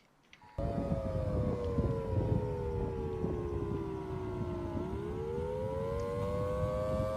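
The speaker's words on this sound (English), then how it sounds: "We got tornado sirens going off for Funkley." A loud, sustained wailing tornado siren in a video game sounds nonstop, its pitch dipping slowly and then rising again, like a warning siren blaring across open space.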